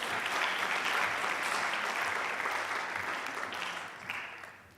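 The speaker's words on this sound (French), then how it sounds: "vous pouvez l'applaudir" Applause from an audience for an award winner at a French audiology awards event, a full, even round of clapping that holds steady and then tapers off toward the end.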